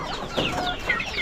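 Farm chickens clucking in a rural yard with turkeys nearby, a few short, moderately close bird calls over a steady background murmur.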